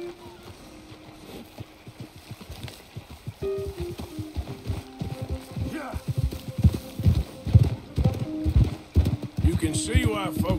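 Horse hooves clip-clop at a walking pace in the video game Red Dead Redemption 2, growing louder toward the end, while characters talk over them.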